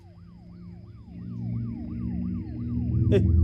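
A Home Minister's convoy approaches in a movie scene, its siren wailing in a steady repeating rise-and-fall cycle over a growing vehicle rumble, getting louder toward the end.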